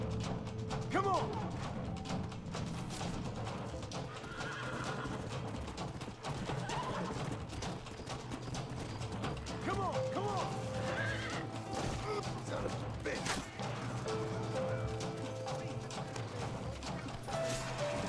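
In the Red Dead Redemption video game, horses whinny repeatedly over a low rumbling ambience, mixed with hoof clip-clops. Several neighs rise and fall across the scene, and other game sounds can be heard under them.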